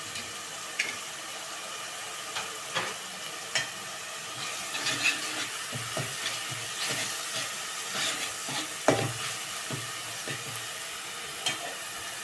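Onions frying in a pan for salna, a soft continuous sizzle broken by intermittent spatula stirs and scrapes at a close, moderate level with no talk.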